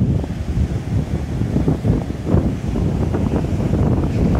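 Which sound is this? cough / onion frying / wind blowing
wind blowing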